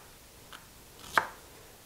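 A single knife cut through the end of cleaned celery on a kitchen surface, a soft tap followed by a sharper close chop, brief and alone with no talk.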